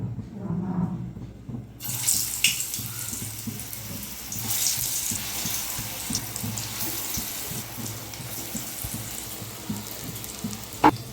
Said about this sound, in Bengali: তেল গরম হয়ে গেছে, আমি কোফতাগুলো ভেজে নেব।